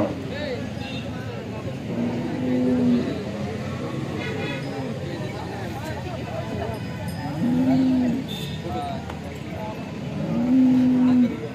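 Several low, drawn-out moos from cattle at a cattle market rise over a steady background of voices and general farmyard noise, spaced several seconds apart.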